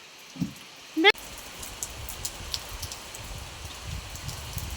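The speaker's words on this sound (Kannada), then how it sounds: "ಜೋರ ಬತ್ತೈತೆ ಮಳೆ" Heavy rain pours steadily and evenly, filling the background with a dense, continuous hiss after a brief burst of voices and a short sharp noise near the start.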